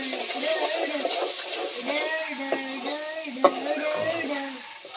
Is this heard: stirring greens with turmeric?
yes